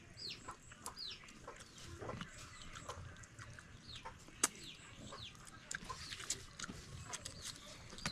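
Chickens cluck and chatter on a farm in a busy, faint chorus of short repeated calls at varied distances, with occasional sharp clicks and no clear talking.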